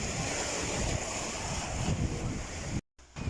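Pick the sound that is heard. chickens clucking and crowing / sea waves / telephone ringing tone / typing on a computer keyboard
sea waves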